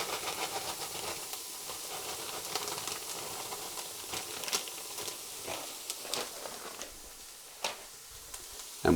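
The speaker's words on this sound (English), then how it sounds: "I'm now going to add in the veggie mince." Frozen veggie mince tipped into onions that have been cooking for a few minutes in a Ninja Foodi, giving a steady, moderate sizzle and hiss with scattered clicks and scrapes, and a sharper knock right at the end.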